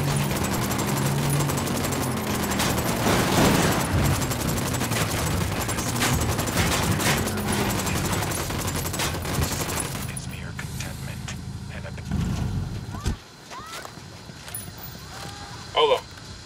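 Dense, loud bursts of automatic gunfire rattle through a Ghost Recon Wildlands firefight for most of the span, then cut out, leaving a quieter game scene with scattered sounds.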